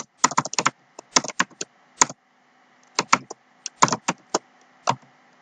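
Typing on a computer keyboard while setting up a Python notebook on Windows, with bursts of quick, close key clacks separated by brief pauses.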